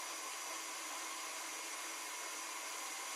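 A stand mixer whisking Swiss meringue buttercream, giving a steady, even motor whir with airy hiss that holds constant throughout, fairly quiet and with no talking.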